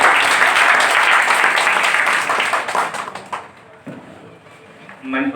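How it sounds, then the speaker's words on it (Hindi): Audience applause at a VICE day celebration and certificate distribution ceremony, loud sustained clapping from a crowd that fades out after about three seconds, leaving quieter room sound. "जोरदार तालियां सीओ साहब।"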